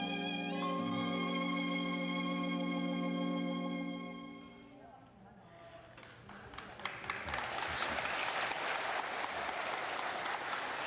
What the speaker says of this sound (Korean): 분들이 앉아 계시면서 지금 박수를 쳐주시는데 영원의 박수를 쳐주셨어요